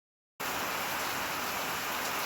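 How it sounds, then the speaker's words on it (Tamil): Rainwater pouring down into a harvesting pit, a dense steady hiss of falling water that starts abruptly after a moment of silence and continues unbroken. "நம்ம பிட்டில் வரக்கூடிய மழை தண்ணி வந்து இறங்குது"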